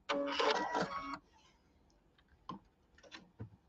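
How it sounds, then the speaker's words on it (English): A sewing machine stitches quilt pieces for a Kimberbell table topper, a dense loud burst of rapid mechanical whirring for about a second, followed by quiet scattered clicks and handling taps. "So I just sewed it together in the middle, Q02, yes, Anna."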